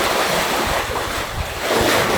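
Sea waves break and surge into a natural rock pool on a Koufonisia shoreline, a loud, continuous roar of surf with wind buffeting the microphone.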